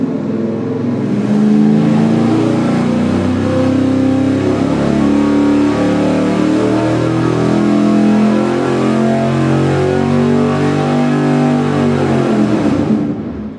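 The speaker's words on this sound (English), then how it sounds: "So this is our final power pull" A V8 engine on a dyno during a full power pull, roaring loud and continuous as it revs steadily higher for over ten seconds before cutting off abruptly.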